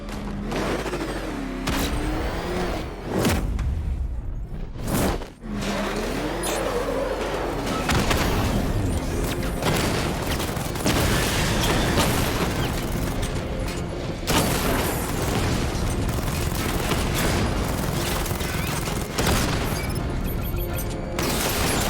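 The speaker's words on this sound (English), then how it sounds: "Your 60mm cannon will penetrate these heavily armored units" In Batman Arkham Knight, the Batmobile's 60mm cannon fires at heavily armored units, a dense, continuous barrage of loud booms and mechanical blasts that fills the scene, with a sharp burst early and no speech.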